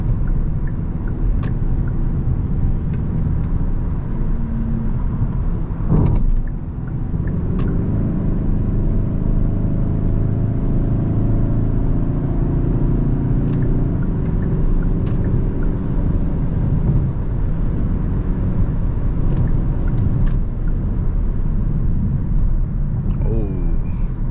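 A 2025 Kia K5 GT Line cruises along a road on a clear day, its steady engine and tyre rumble filling the cabin with a couple of brief knocks, while a driver talks over the drone.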